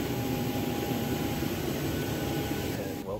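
A Southwest Airlines jet engine drones steadily while passengers board from the rear stairs, walking past the engine and under the wing. The sound is a loud, continuous whine and rumble heard up close.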